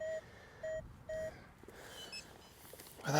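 A Minelab Manticore metal detector sounds three short, evenly spaced beeps as it passes over a buried target outdoors, then comes a brief scuffing rustle at the end.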